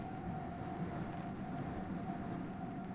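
A train runs steadily through the whole stretch, a continuous low rumble with a faint hum above it. The rail noise stays close and even, with no voices over it.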